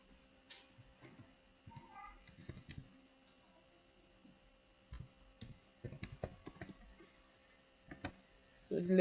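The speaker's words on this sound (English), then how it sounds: "Double click." Quick double clicks of a computer mouse while working in Amos statistical software, light sharp ticks in small clusters between stretches of quiet talk, ending with a louder thump.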